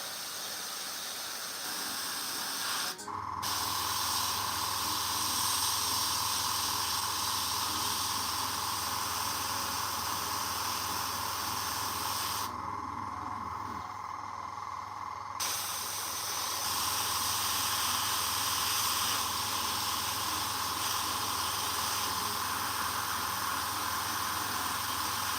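Airbrush spraying paint onto a Warhammer miniature, a steady close hiss with a brief cut near the start and a short pause midway, otherwise continuous and even.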